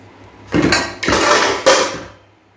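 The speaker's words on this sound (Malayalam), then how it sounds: "നമുക്ക് ഈ ചട്ടി ഒന്ന് മാറ്റണം" A cooking pan, a chatti, is lifted and swapped on a stove, giving three loud, close metallic clanks and scrapes about half a second apart, each ringing briefly before fading. No one speaks.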